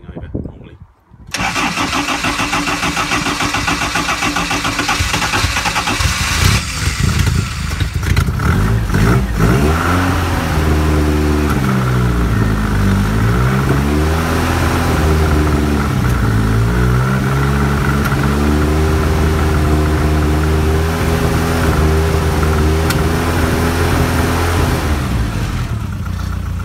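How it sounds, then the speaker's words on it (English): A classic Mini's engine is cranked by a geared starter motor, catches after a brief churn and then runs loud and close, revving up and down in sweeping pulls before settling toward idle, with a person speaking over it. "Got a geared starter motor on it as well, which comes in really handy."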